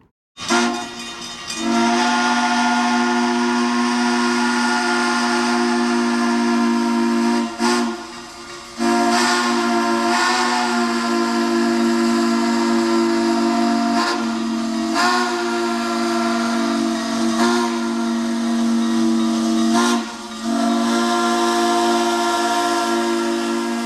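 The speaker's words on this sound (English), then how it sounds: "he heard an unfamiliar whistle sounding in the distance" A Southern Pacific L1 steam locomotive whistle blows long, loud sustained blasts with a few short breaks, its chord-like tone ringing over a steady hiss.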